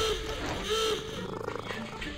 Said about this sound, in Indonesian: Dengkuran kucing.